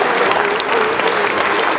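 Steady, loud, dense applause from an audience honouring competition candidates at a trade show, continuous crowd clapping with no break throughout.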